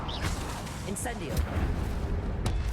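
A fire spell cast in the Hogwarts Legacy video game, heard as a whooshing burst and crackle within a busy mix of game noise and low rumble, with a person talking over it.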